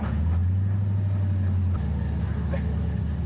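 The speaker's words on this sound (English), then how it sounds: "the noises of the dog box just sound so insane" Drift car with a dog box gearbox and about 500 horsepower, loud engine drone with strong low harmonics that drops sharply partway through, then a rougher, lumpier idle-like rumble.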